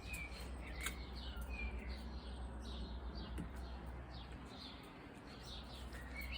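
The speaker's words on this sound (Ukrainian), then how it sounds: "Тихо чуєте, як пташки співають?" Small birds chirp and tweet in short repeated phrases, fairly distant, over a steady low background hum, in a garden in England.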